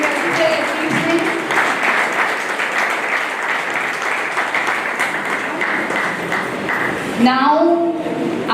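Applause from an audience at a school felicitation program for ICSE and ISC toppers, steady clapping from a crowd lasting several seconds while a voice speaks over it, then a brief tonal sound near the end.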